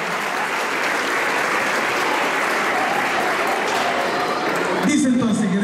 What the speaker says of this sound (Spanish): Ellos merecen un aplauso un poco más grande